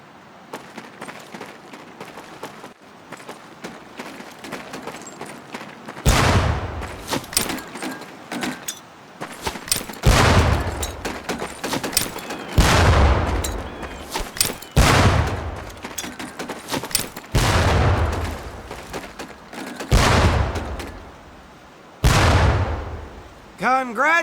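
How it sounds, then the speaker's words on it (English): Training grenades are thrown at barrels in Medal of Honor: Pacific Assault boot camp. About seven loud explosions burst at irregular intervals of a few seconds, each fading into rumble, over quieter background noise. "pick up a couple grenades"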